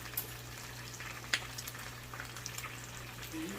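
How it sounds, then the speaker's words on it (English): Garlic frying in a pan for honey garlic glazed chicken thighs, heard as a faint, steady, soft sizzle with a few small pops and no talking. "I'm going to let it cook for just a little bit. Let it fry in there."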